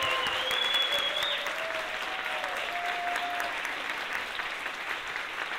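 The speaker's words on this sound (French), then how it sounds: "Je vous propose vraiment beaucoup d'applaudissements pour cette équipe qui est là 2 ans après" An audience applauds the welcome staff, a dense, steady clapping that fills the room at close range and holds at an even level throughout, with a faint musical tone sliding underneath.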